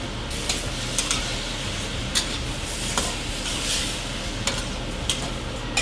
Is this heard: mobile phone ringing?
no